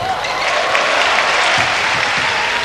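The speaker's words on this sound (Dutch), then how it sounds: "Het applaus hebben de spelers in ieder geval al mee." A crowd applauds steadily throughout a basketball game between Ford Cantù and Maccabi Tel Aviv at the 1982–83 Intercontinental Cup. The clapping is dense, loud and continuous, filling the arena with no break.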